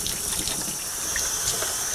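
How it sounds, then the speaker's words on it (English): Water runs steadily from a tap over the top of a beer keg in a sink, a continuous, close, fairly loud splashing wash with no pauses and no talk. "I'm going to rinse off the top where I spilt"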